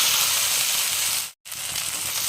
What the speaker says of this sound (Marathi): गरम कढईमध्ये तेल टाकून घेतले। आता तेल पण गरम झाले, त्यामध्ये ही भाजी टाकून घेतली।